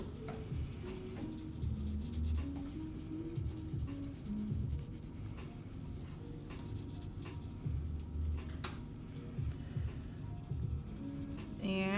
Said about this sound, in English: we're just doing these with number 2 pencils